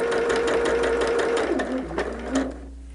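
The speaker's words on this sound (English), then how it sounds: "this one we're going to be sewing from the bottom to the top. So we'll just start stitching." A sewing machine stitches a quilt block in a fast, even mechanical whir with a rapid needle patter, then slows and stops near the end and leaves a faint hum.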